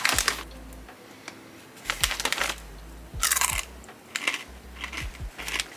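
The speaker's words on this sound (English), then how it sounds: "It's definitely got crunch to it." Flock salt and vinegar chicken chips crunched close up, a run of loud crisp bites and chewing crackles in uneven bursts with short pauses, no talk over them.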